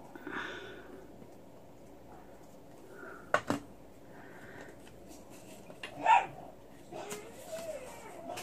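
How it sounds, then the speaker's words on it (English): A pet dog indoors whines softly and lets out a couple of short yips and barks at a distance, faint and intermittent against quiet room noise. "I have no idea what my Pikachu is whining or barking at"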